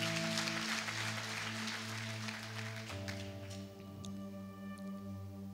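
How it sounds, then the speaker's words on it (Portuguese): A church congregation claps in a brief burst of applause over sustained keyboard chords. The clapping fades after a few seconds while the held organ-like tones carry on alone. "Dá um forte aplauso ao Senhor aí,"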